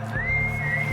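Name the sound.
voice imitating a guard blowing a whistle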